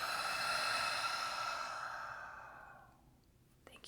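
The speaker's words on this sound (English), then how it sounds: "Breathing into the stone." A long, deep exhale during a guided breathing meditation, loud at first and then fading away over about three seconds, close and alone.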